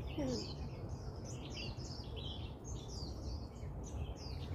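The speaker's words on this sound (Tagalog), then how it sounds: "Ibon, yun lang." Forest birdsong on a hiking trail at Lion Rock, steady overlapping chirps and tweets at moderate volume over a constant background hiss throughout.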